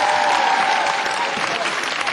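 An audience gives steady, dense applause after a song, a continuous wash of clapping with no break across the moment.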